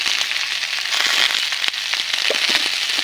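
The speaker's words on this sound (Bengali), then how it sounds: "নেড়ে চেড়ে আর একটু ভেজে নিব।" Puti fish curry frying with turmeric and salt, a loud close crackle and sizzle with scattered pops and stirring scrapes, continuous and without any voice.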